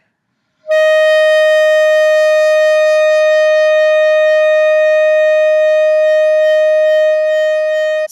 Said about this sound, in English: that's an example of using your air to produce vibrato as opposed to using your embouchure to produce the vibrato